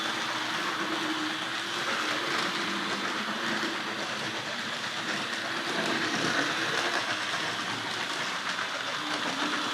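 A Tri-ang Hornby model train with a motor bogie runs around its track, giving a steady whirring motor hum and rolling rumble that stays constant and fairly close throughout.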